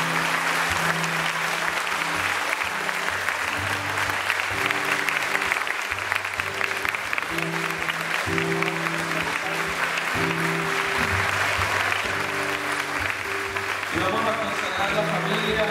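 An audience at a school family event applauds continuously and loudly, a dense wash of clapping that runs the whole length while music with a steady rhythmic bass plays alongside.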